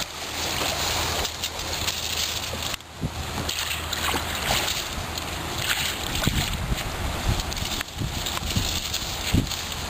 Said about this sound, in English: a simple leaf rake is actually pulling it right out of the water.